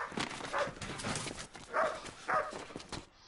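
A dog in a street setting gives a few sharp barks spaced about half a second apart, moderately close, with a faint clopping and rustle between them.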